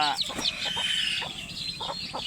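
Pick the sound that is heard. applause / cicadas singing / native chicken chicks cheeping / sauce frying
native chicken chicks cheeping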